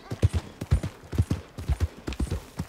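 Horse hooves clip-clopping in the video game Red Dead Redemption 2, a steady, close and fairly loud walking rhythm of dull thuds with no talk over it.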